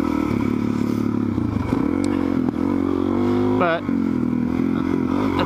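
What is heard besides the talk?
supermoto motorcycle riding on dirt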